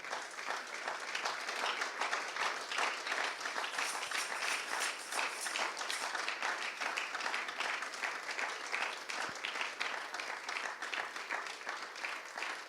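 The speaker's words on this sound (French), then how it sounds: "Est-ce qu'on peut acclamer pour ça?" A church congregation bursts into sustained applause, steady and dense clapping from many hands filling the room without a break for over twelve seconds.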